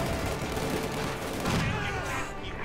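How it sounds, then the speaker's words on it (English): Dense small-arms fire from sniper rifles in the Company of Heroes 2 real-time strategy game, with rapid overlapping shots and rattling bursts forming a loud continuous battle din that fades slightly toward the end. "Snipers opening up"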